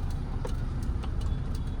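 A car rolls slowly through a turn into a narrow lane, its engine a steady low hum heard from inside the cabin, with faint road and traffic noise and no voices.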